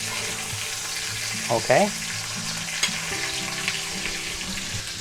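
A chuck eye steak sizzles steadily in a hot pan as it is basted, with a continuous frying hiss, a few clinks and stirring sounds, and a brief spoken word over it.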